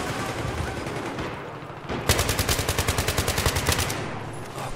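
Gunfire in the video game Battlefield 3: rapid automatic bursts ring out loud and close, a dense run of evenly spaced shots in the second half after scattered background firing.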